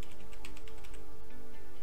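Rapid typing on a computer keyboard with a Kali Linux terminal open, close and loud, the keystrokes coming in a quick clattering run with no voice over them.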